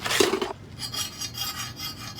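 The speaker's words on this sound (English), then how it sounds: "Can you take the file and file that off?" A hand file rasps a burr off the edge of a metal light fixture. One loud, close stroke comes first, then lighter scraping strokes follow in a steady rhythm, with no talking.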